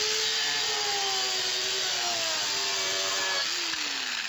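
A DUALSAW CS 300 dual circular saw cuts through wood molding with a loud, continuous high whine whose pitch sags slightly under load before shifting near the end of the cut.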